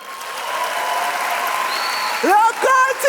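Audience applause fills a comedy show hall, a steady broadband clatter of clapping for about two seconds before a voice speaks over it near the end.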